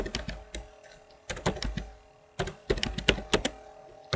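Someone types a diskpart command on a computer keyboard, giving quick clusters of close, crisp keystrokes separated by short pauses.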